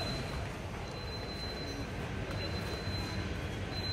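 Underground metro train on Mumbai's Aqua Line, a steady loud rumble and roar of the carriage in motion with a thin high whine throughout, continuous from start to end.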